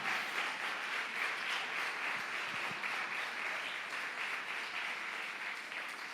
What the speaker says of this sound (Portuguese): pode aplaudir então bem forte.